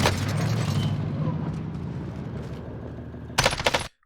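Rapid automatic gunfire in the video game Warzone, a dense, loud burst of shots that rattles on continuously for over three seconds, then a short sharp volley before it abruptly cuts to silence.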